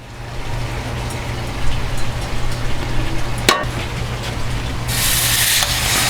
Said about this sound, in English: So we're going to brown up these pork chops pretty quick.